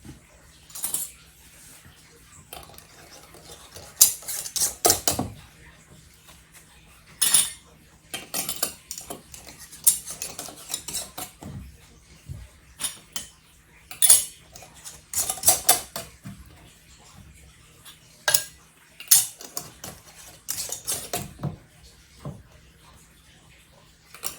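Metal rings are screwed onto glass canning jars of pizza sauce, with repeated clinks and scraping twists in irregular bursts, close by.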